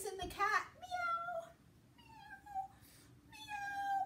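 Voices imitate a cat, three drawn-out meows with pauses between them, fairly close and clear.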